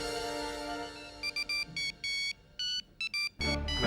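A phone rings with an anonymous repeated call, sounding as a series of bright electronic ringtone bursts in an irregular pattern over a low background hum, followed by a louder rumble at the end.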